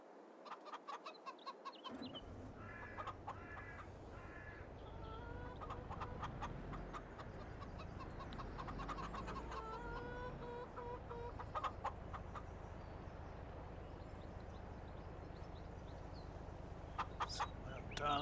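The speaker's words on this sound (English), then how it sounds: "We just need to put some food in for the chickens." Chickens in the Farming Simulator farm game cluck in a steady, busy stream, with short repeated calls and the odd rooster-like squawk over a continuous farmyard background, moderately loud throughout.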